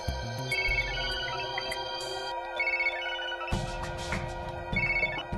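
A phone ringtone plays in an electronic repeating pattern, steady and moderately loud, alone with no talk over it.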